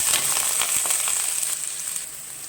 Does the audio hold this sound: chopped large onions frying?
yes